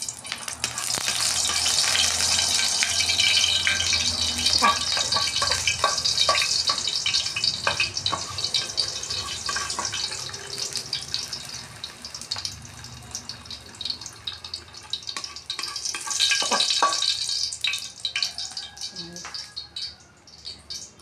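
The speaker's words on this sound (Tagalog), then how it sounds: "Tapos painitin natin yung kawali at mantika." Cooking oil heats and sizzles in a kawali, a steady frying hiss with occasional clinks and small bursts, as someone speaks nearby.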